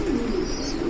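Pigeon cooing close by, a soft low repeated coo held steady for about a second with no voices; the birds are male pigeons kept for sale, including Lahori and blue-type breeds.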